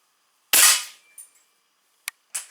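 A single sharp, loud crack comes from a Weihrauch HW 80 .22 (5.5 mm) air rifle being fired up close, followed by a few faint clicks and ticks as it tails off.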